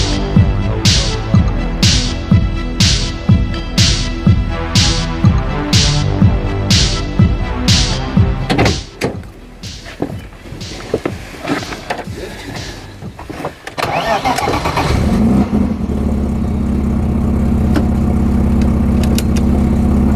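A BMW M50 engine fitted in a Toyota Corolla drift car, running rich on B28 injectors, turns over in loud rhythmic bursts, then catches and settles into a steady, close idle.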